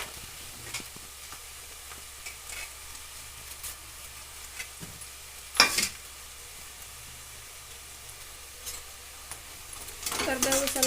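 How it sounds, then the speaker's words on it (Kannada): Curry leaves fry with cooked onions in a pan for uppittu, a low steady sizzle broken by light stirring taps, a sharp utensil clatter midway and a louder burst of frying near the end. "ಕರಿಬೇವು ಸ್ವಲ್ಪ ಫ್ರೈ ಮಾಡ್ಕೊಳ್ಳಿ."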